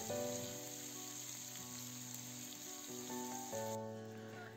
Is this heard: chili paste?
yes